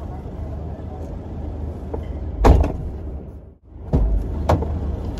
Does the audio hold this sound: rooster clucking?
no